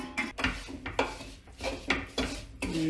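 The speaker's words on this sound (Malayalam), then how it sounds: "നന്നായിട്ട് ഇളക്കുന്നു" A spoon stirs a thick pumpkin, jaggery and roasted rice powder mixture in a pan, giving a series of scraping, knocking strokes in an uneven rhythm, close and fairly quiet, with no talk.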